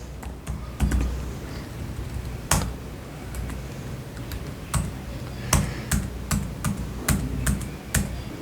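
Computer keyboard keys are pressed in an irregular series of sharp, close clicks, some louder Enter-key strikes among lighter taps, with no voice over them.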